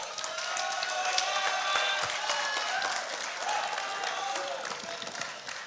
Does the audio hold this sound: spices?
no